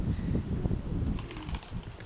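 A pigeon lands near a loft, its wings flapping in a brief flurry of soft beats close by, followed by lighter fluttering.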